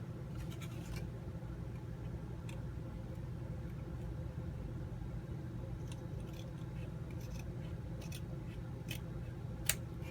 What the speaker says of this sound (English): but I'm going to try to trim it away.